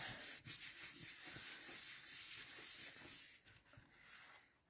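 A handmade paper craft piece, a stamped card with tulips, is rubbed by hand against a work surface while the glue dries, giving a soft, steady scraping swish that continues for several seconds without talk.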